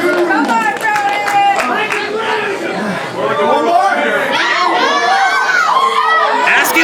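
A wrestling crowd at an indie show shouts and chatters continuously, many voices overlapping in a loud, dense roar with excited calls rising through it.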